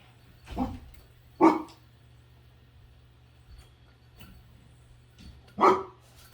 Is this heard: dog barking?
yes